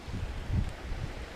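Wind blows across a pond on a breezy fishing day, a brief steady rumble of gusting air buffeting the microphone with a soft rustle.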